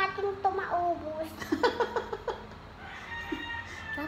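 Chickens cluck in short bursts nearby while children chatter and giggle around them.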